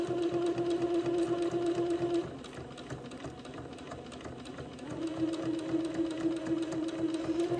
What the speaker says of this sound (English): I need to sew the straight stitch on both sides.